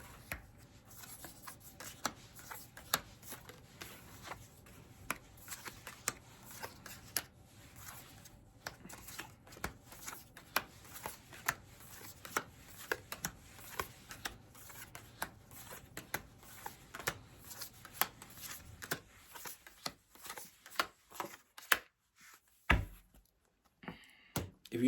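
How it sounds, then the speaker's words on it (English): Tarot cards shuffled by hand during a love reading, a steady run of soft papery riffles and light taps close to the microphone, pausing into near quiet near the end with a few louder knocks. "when I was shuffling"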